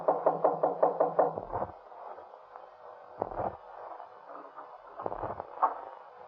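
Knocking on a door in a 1934 radio crime drama: a quick run of about seven close, dry raps, then two more separate knocks after a pause.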